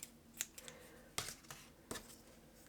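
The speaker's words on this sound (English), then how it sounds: "You just cut the yarn," Scissors cutting crochet yarn for an amigurumi snowman, a few quiet, sharp snips and clicks spaced irregularly, close by and faint, with no talking.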